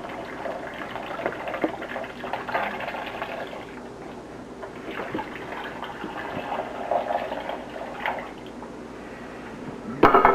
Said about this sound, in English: Now I'm going to add like an equal amount of water.